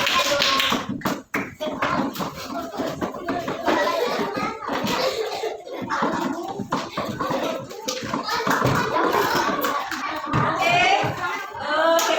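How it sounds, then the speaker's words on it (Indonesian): Children in a classroom clap for group 3, a burst of brisk, scattered applause with a teacher's voice and kids' chatter mixed in throughout. "Oke, kita kasih tepuk tangan untuk kelompok 3"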